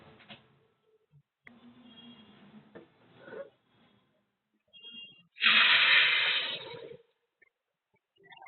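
Water is poured into a pot of lightly fried rice for basanti pulao, a loud rushing, sizzling hiss lasting about a second and a half, preceded by quieter clattering and stirring.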